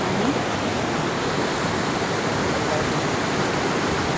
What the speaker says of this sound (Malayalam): നല്ല രീതിയിൽ വെള്ളം അടിക്കുന്നതുകൊണ്ട് നല്ല സൗണ്ട് ഉണ്ട്.